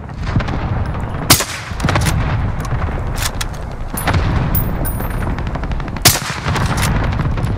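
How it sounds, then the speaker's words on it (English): Gunfire in a Call of Duty video game: repeated sharp gunshots and short bursts crack over a busy battle background, several loud close shots spaced a second or two apart. "People at our back are shooting at us now."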